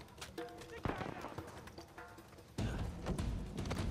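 AK rifle gunfire in Uncharted 4, sharp bursts of shots that thicken into a dense, loud rattle in the second half, with action noise between the shots.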